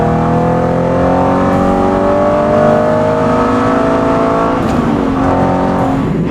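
A supercar driven fast along a narrow country road between fields, its engine loud and close with rising and falling revs as it shifts through gears, with no speech over it.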